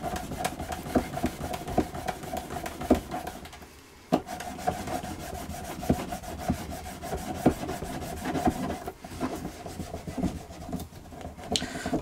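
Leather bag edges are hand burnished with a continuous rubbing friction, close up, in repeated back-and-forth strokes with a brief break partway through.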